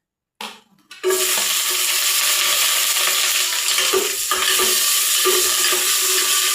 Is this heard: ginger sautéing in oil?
yes